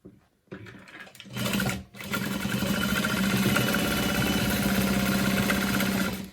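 A sewing machine stitches an exterior bag panel beside a stabilizer: after a few short starts, it runs in a steady, fast, close mechanical whir with a rhythmic needle chatter for several seconds.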